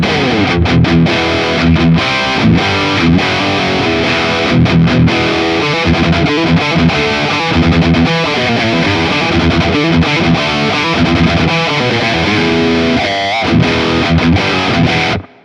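An EVH Wolfgang Special electric guitar plays loud and heavily distorted directly into an amplifier at full volume, thick and saturated with chords and riffs, ending abruptly.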